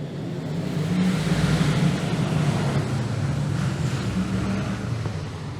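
Several racing cars roar off the start of a 460-metre race together, a loud, sustained engine drone with rising and falling pitch held steady throughout.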